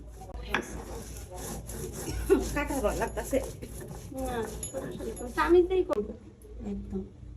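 Dried chili and pressed dried fish (chapa shutki) are ground on a stone with steady scraping strokes, close and rhythmic, under a person talking.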